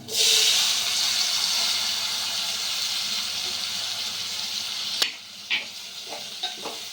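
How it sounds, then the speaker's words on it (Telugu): Boiled cluster beans hit hot oil with turmeric in the pan, raising a loud, steady sizzle that slowly fades, followed by a few soft clinks of stirring. "ముందుగా ఉడకబెట్టుకున్న ఇప్పుడు గోకరకాయలనే యాడ్ చేసుకుంటున్నాను"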